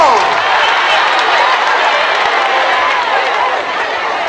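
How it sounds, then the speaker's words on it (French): Congregation applauding and cheering during a Catholic church gathering, a dense, steady wash of loud clapping from a crowd that fills the whole stretch without letup. "On va acclamer le Seigneur."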